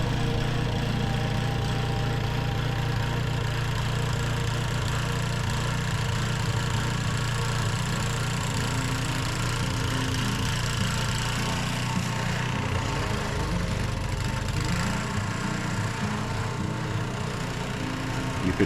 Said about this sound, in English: The engine kind of cut out a little bit